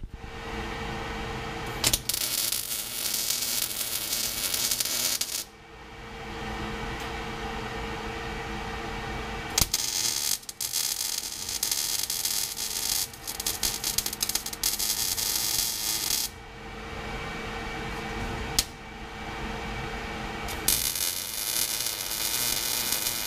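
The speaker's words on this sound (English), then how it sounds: "let's fire up the welder" Electric arc welder fusing perforated metal to a grill grate, a steady crackling, hissing buzz that runs in long bursts, broken by short pauses between welds.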